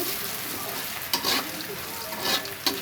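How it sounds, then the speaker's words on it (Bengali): Steady sizzling of onion frying with salt in a little hot oil, with a few sharp scraping stirs of a utensil in the pan. "লবণ দিয়ে পেঁয়াজটা ভেজে নিচ্ছি"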